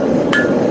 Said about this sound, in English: You hear that pop? That's because I put a little water on the anvil